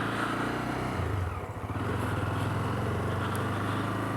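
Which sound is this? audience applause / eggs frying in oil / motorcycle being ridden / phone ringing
motorcycle being ridden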